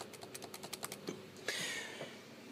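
Fast, light key clicks on a Dell Latitude laptop keyboard, a quick run of taps followed by a few scattered presses and a brief soft rustle, heard close and alone.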